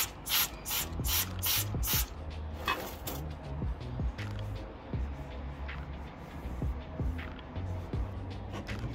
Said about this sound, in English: So again, I'm going to spray this guy and then give it a good wipe with the microfiber cloth.